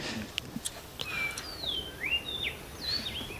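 Birdsong from a video game map during a Counter-Strike esports match, several thin chirps and sliding whistled calls spread across a few seconds, light and somewhat distant over faint ambient hiss with a few soft clicks.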